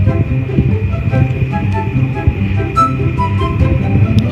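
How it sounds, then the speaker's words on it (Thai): A video game train rumbles past loudly and steadily, its low droning hum and rolling clatter filling the scene with brief metallic ticks on top, and no talking over it. "อุ้ยตกใจรถไฟอ่ะทำไมรถไฟชอบมาจัมสแกร์เรา"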